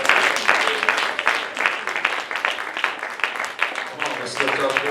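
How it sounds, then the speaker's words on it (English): Church congregation clapping hands in worship, a lively run of uneven claps with voices calling out alongside, moderately loud and close. "clap your hands rather,"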